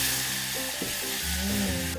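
Spices fry briefly in oil in a pan for a claypot Arab rice dish, a soft, steady sizzle with a faint crackle, close but quiet, no talk.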